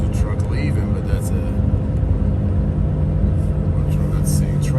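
Truck pulling out of a tire warehouse truck entrance, heard from inside a semi truck cab as a loud steady engine and road rumble with a faint passing whine, under continuous talk.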